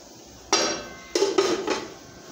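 A spoon mixing ghee into sheera in a pan, heard as four sharp metallic clanks against the pan: one, a pause, then three in quick succession, close and fairly loud.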